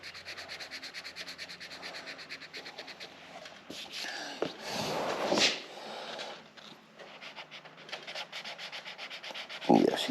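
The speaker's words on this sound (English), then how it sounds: "you can barely hear the sander working" A sander works over the body of a 2017 EZGO RXZ golf cart, giving a steady, fairly faint rubbing scratch that swells louder in the middle and continues without talk.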